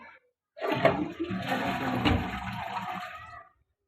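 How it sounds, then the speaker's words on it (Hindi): A ceramic toilet flush tank flushes in one continuous rushing gush of water lasting about three seconds, fairly close and loud, then cuts off to silence. "हम एक बार फ्लश करके चेक कर लेते हैं"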